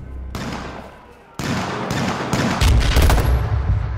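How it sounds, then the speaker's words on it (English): Airstrike explosions in the battle royale game H1Z1 land as a quick series of loud, heavy booms and blasts, starting with one burst and then a denser volley close by. "Good airstrike, man."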